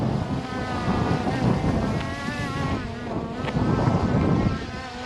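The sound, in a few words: strong wind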